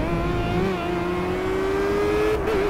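Formula Renault race car engine in a virtual race at Imola, a sustained high whining engine tone that rises slowly as the car accelerates, with no talking.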